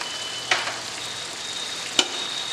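Pahadi chicken curry with milk cooks on low heat in a pan, giving a soft, steady sizzle and bubbling with two brief clinks of stirring.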